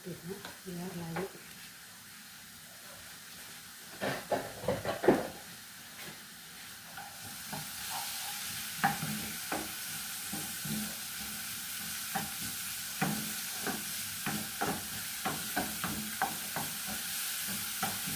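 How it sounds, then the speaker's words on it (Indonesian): Shallots and garlic stir-fried in a pan for tuna macaroni, a steady sizzle under repeated scraping stirs of a spatula, close and fairly loud, with the hiss brightening midway; a voice talks briefly early on. "Dioseng dulu ini bawang merah, bawang putihnya biar layu."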